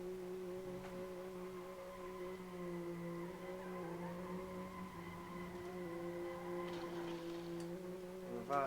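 Tires squeal while a car spins reverse donuts at the Nurburgring in a racing game, over a steady, droning engine tone that holds throughout, with a sharper squeal rising near the end.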